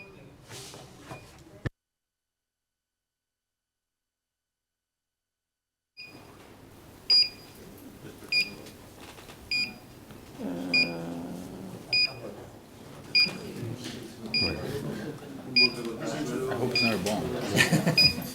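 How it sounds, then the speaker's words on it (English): A carbon dioxide alarm gives repeated short, high electronic beeps at a steady pace. People talk over it in the foreground. "This seems to be a CO2 alarm."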